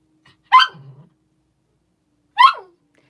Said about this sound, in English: he's doing the cute bark right now